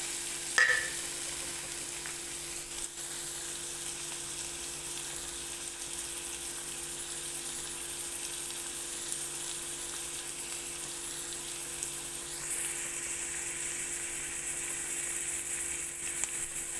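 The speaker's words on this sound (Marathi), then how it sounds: "आता कांदा लाल भरे होईपर्यंत आता भाजून घेते" Chopped onion frying in a pan over a gas flame after garlic, a steady close sizzle and hiss that stays even throughout, with a brief clink near the start and no talk.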